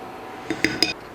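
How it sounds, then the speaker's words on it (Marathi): Dahi vada batter whisked by hand in a bowl gives three quick, light clinks and taps against the vessel, close and fairly soft, with no talk. "हातानेच फेटूया यात पिठाच्या गुठळ्या राहायला नाही पाहिजेत"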